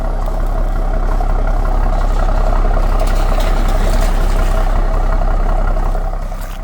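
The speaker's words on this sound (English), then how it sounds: "I'll hit you guys with some exhaust noise here" A BMW M340i in Sport Plus mode gives a loud, steady low exhaust rumble, idling evenly with a deep, continuous drone throughout.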